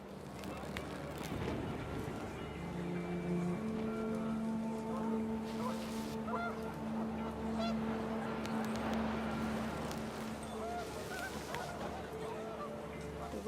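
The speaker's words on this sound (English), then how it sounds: "panicked geese appeared and quickly went" Geese honk repeatedly in a loose, overlapping chorus over steady wind and background noise, the calls rising and falling as the birds pass.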